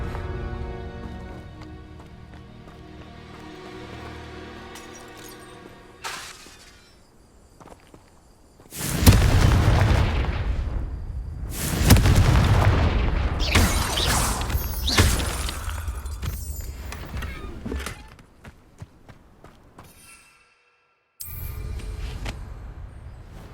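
Confringo spell explosions go off in the video game Hogwarts Legacy as loud, roaring bursts with crackling, shattering debris. Quieter magical whooshes and footsteps come between them, and one burst returns after a short silence.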